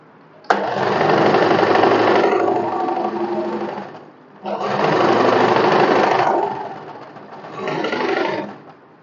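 Domestic sewing machine running a double stitch through cotton fabric for a summer one-piece dress, loud whirring motor in three bursts with short pauses between them.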